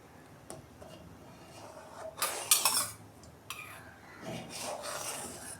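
Vinegar and water are stirred together in a small bottle cap, making quiet scattered clinks and scraping taps that come in a couple of brief bursts over a soft background.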